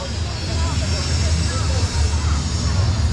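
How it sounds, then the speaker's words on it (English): Noisy jet aircraft passing over a theme park, a steady loud roar holding through the whole stretch with broadband rumble, mixed with crowd and ride ambience. "Oh, we got a noisy jet there"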